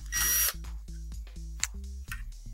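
A power drill whirs in short bursts while driving screws back into a TV formatter board during a Mitsubishi DLP repair, with brief clicks between the quiet, close spurts.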